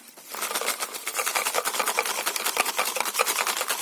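Paper lottery tickets shaken inside a closed small box, a dense continuous rustling and rattling that keeps up steadily for several seconds, close by and with no talking.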